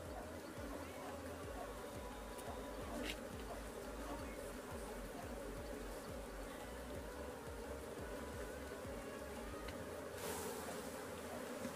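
Honey bees buzz steadily and densely around brood comb in a cement-block hive box, a close continuous hum with a faint voice now and then.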